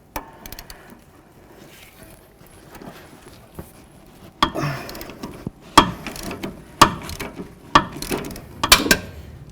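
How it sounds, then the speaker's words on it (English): An 18 mm socket on a ratchet working a sway bar link nut on a 2005-14 Ford Mustang: rapid ratcheting clicks in bursts, growing louder with sharp metallic knocks, close up. "get my 18 millimeter socket with ratchet on the back side where the nut is"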